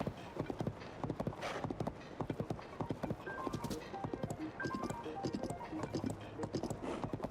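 Horse hooves clip-clop at a steady trotting rhythm in The Legend of Zelda: Tears of the Kingdom, close and distinct, with faint game music tones drifting underneath.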